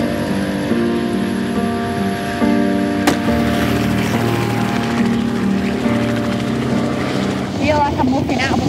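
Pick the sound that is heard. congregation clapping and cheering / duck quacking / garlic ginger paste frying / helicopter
helicopter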